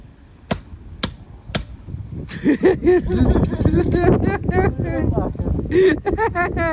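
Three sharp, evenly spaced hammer blows ring out on a steel tank hinge during a crash test of different steel grades. Excited talking follows right after, with more knocks scattered under the voices.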